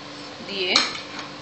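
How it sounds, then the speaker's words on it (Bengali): Chom chom sweets go into malai in a pan with a single sharp clink of a utensil against metal, brief and close, set against a quiet kitchen background. "এবার আমি এই মালাইয়ের মধ্যে চমচমগুলো দিয়ে দিচ্ছি।"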